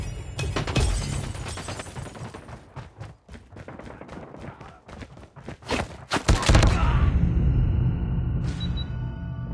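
A flashbang grenade bursts with a sharp, loud blast in Call of Duty Mobile, followed by a lingering high ringing tone. Rapid gunfire clatters in the seconds before it, and scattered shots continue afterward.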